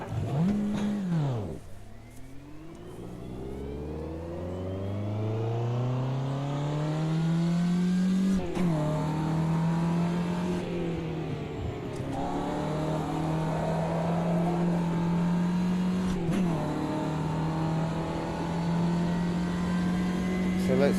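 A race car engine in Automobilista 2 drops off throttle, falls sharply in pitch, then climbs and holds a steady loud drone while coasting, broken by a few abrupt shifts, with no one talking.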